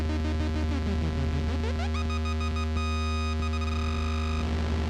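A buzzy synthesizer tone on a Synthstrom Deluge whose pitch is swept in stepped, square-shaped jumps by a square-wave LFO, sustained and loud with no talking.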